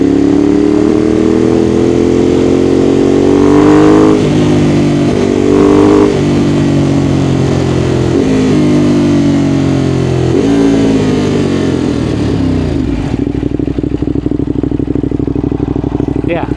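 A Ducati Monster 821 motorcycle engine with a quickshifter blips and drops through several downshifts, each gear change a sharp rise in engine note on a steady throttle-off descent, loud and close, with a voice talking over it.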